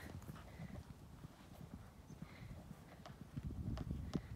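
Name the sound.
horse Minnie's hooves, cantering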